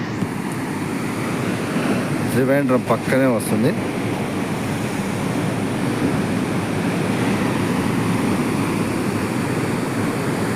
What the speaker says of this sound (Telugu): ఇలా సముద్రం పక్కన ఉంటుంది.